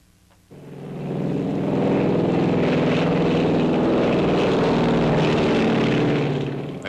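A twin-engine B-25 bomber flies with its propeller engines droning, a loud, steady throbbing roar that swells in quickly and holds, with no voices.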